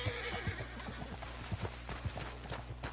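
Horse in the video game Red Dead Redemption 2 giving a whinny while its hooves clip-clop in a steady quick rhythm, fairly faint throughout.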